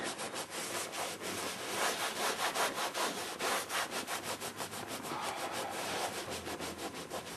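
A regular rag is rubbed over a leather seat under repair, making steady, rhythmic back-and-forth scrubbing strokes that sound close and continuous, with no voices.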